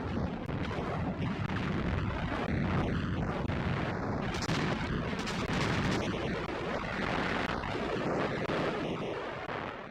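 A World War II Allied artillery bombardment in the North African desert, heard as a continuous roll of heavy booms and deep rumbling with wind-like noise, loud and sustained throughout.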